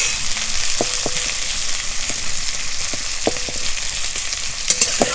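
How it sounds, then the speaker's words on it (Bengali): Onion with panch phoron frying in a small amount of white oil in a hot karahi gives a steady, fairly loud crackling sizzle, punctuated by several sharp metallic spoon clinks against the pan, nobody speaking. "ভালো করে একটু ভেজে নেব।"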